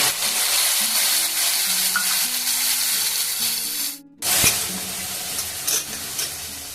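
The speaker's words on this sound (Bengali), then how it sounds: "আর এখানে যে মশলাটা রেডি করে রেখেছিলাম সেটা দিয়ে দেবো।" Spice paste sizzles and crackles steadily in hot oil with fried onions, cumin and bay leaf for a Bengali prawn curry, with a brief break as the paste drops in, then frying resumes loudly and close.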